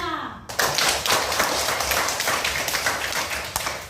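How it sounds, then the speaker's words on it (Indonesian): Students in a classroom clap for their classmates in group 2, a close, uneven patter of many hands with sharp individual claps, following a brief voice at the start. "Berikan tepuk tangan kepada teman kelompok 2."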